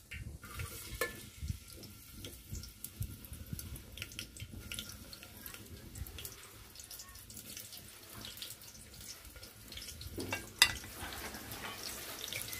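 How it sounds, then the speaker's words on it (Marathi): Finely chopped onion fries in about three spoons of hot oil for a Kolhapuri chicken dish, giving a soft, steady sizzle broken by stirring scrapes and a brief sharper clatter near the end. "कांदा चांगला फ्राय करून घ्यायचा आहे।"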